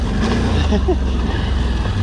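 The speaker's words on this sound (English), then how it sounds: "the throttle and the engine brake on downhills, like right now" A 2020 Can-Am Outlander 650 XMR ATV engine-braking downhill, a steady loud low drone with wind buffeting across the microphone and faint rattles over the top.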